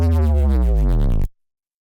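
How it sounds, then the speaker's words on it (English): Synthesized sub bass wobble for drum and bass, a single loud, deep pulsing tone with rapid rhythmic modulation lasting just over a second before cutting to silence. "We've got the sub effects wobble,"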